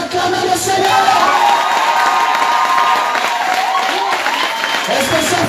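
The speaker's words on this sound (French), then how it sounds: "Est-ce qu'on peut acclamer le Seigneur?" A church congregation cheers and applauds to acclaim the Lord, a loud, sustained roar of shouts, whoops and clapping filling the room from start to finish.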